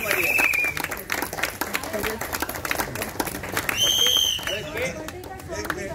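Sustained audience clapping at a birthday party event, continuous and fairly loud, with crowd chatter and brief whistle-like tones rising over it.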